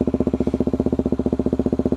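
Close, steady putter of a Suzuki DRZ250 dirt bike engine idling with an FMF Quiet Core exhaust insert, a fast even rhythm of chugging pulses with no talk.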